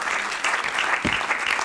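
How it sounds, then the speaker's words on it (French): Steady applause from a seated audience at a poetry reading, a continuous dense patter of clapping with one brief low thump partway through. "qu'on peut applaudir."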